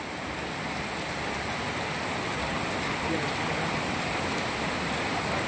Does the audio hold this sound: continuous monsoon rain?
yes